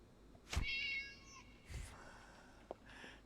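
Meows from a cat in the horror video game Play Things, a few short tonal cries followed by a fainter one, heard alone without talk.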